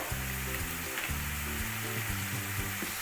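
Green chilli paste with spices sizzles and fries steadily in hot oil while being cooked down for a Bengali lote fish jhuri, with a continuous close, loud crackle and no talking.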